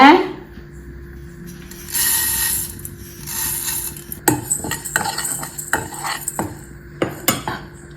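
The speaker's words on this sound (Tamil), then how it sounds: "பாசி பருப்பு வறுத்துக்கலாங்க" Moong dal being dry roasted in a pan, the lentils rattling and scraping as they are stirred, with sharp clinks of a spoon against the metal over a quiet background, close and irregular.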